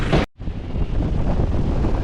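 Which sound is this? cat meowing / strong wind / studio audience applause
strong wind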